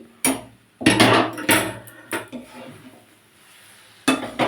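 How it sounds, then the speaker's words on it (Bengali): Metal tongs are pulled off a cooking pot of coconut laddoo. Several sharp metallic clanks and knocks come in a loose series, loud and close, with short quiet gaps between them. "তো সাঁড়াশিটা আমি এখন খুলে রাখছি"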